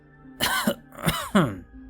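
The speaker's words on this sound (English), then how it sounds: "I coughed painfully" Two or three harsh, strained coughs close by, with throat-clearing rasps between them, sounding raw and effortful.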